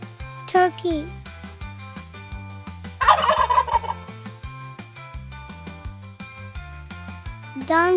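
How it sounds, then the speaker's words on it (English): A turkey gobbles in a rapid, warbling burst of about a second, close and clear, over a bouncy children's music track, with a voice briefly heard before and after. "Turkey."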